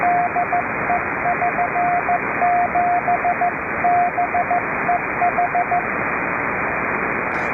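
Morse code CW tone keyed in irregular dits and dahs over steady shortwave static on an amateur radio net near 3729 kHz, fading out near the end.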